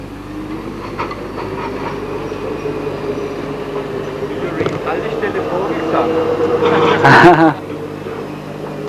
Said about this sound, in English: Still at Vogelsang Depot, this car's reversing in after a test trip.